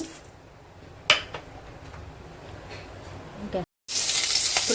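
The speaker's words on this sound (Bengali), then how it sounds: "মুগ ডালটা হালকা করে একটু ভেজে নেব" Moong dal fries in a pan with a low, steady sizzle and a few stirring scrapes, ending in a louder hiss.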